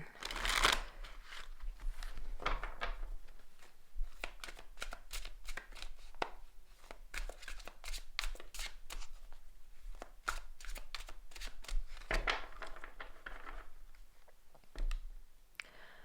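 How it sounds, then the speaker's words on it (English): A deck of tarot cards is shuffled again and again, crisp riffling bursts and sharp card clicks repeating close up at an uneven hand rhythm, with no voice over it. "I was going to shuffle one more time, so let's do it then."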